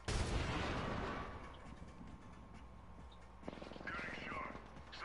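Gunfire in a video game: a dense burst of shots at the start fading into scattered distant pops and ticks, with a faint voice underneath.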